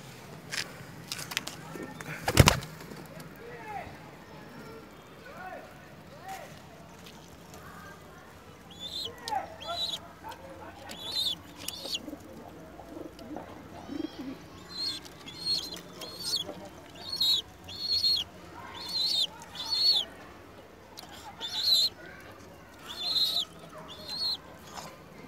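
Soft pigeon cooing and wing flapping come and go at a moderate distance, with scattered rustling, one sharp knock early on, and quiet background noise.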